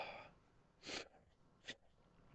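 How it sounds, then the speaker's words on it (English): A person's sneeze bursts out sharply and loudly at close range, followed a moment later by a second, shorter sneeze-like burst, with quiet breathing around them. "Oh, I'm about to sneeze."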